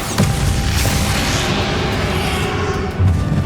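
A Bombarda explosion spell going off in the video game Hogwarts Legacy, a loud burst at the start that settles into a dense rumbling roar, with another thump near the end.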